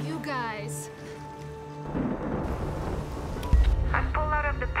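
A thunderstorm at sea rumbles with heavy rain and wind, the noise building into a loud, steady roar with a sharp crack partway through, mixed with layered music and effects.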